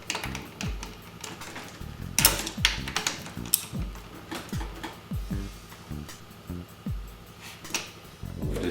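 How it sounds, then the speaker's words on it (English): Socket wrench with an 11/16 socket tightening a wheelchair wheel: rapid, close ratcheting clicks in a continuous run, with brief louder knocks. "We're tightening the wheel on the wheelchair with the 11/16 socket."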